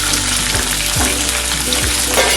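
Onion pieces fry with ginger-garlic paste for a beetroot fry, a loud, steady broadband sizzle with a few soft stirring knocks, close and continuous, no talking.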